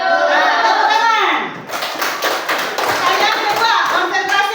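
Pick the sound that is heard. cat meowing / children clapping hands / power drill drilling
children clapping hands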